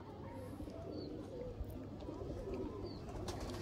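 Low, soft cooing from golden pigeons sits under a steady murmur of background noise, with faint occasional chirps; a quiet, continuous scene.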